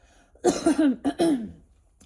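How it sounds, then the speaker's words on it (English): A person clears their throat with a few rough, voiced bursts, short guttural coughs close up in a quiet room. "Let me clear my throat."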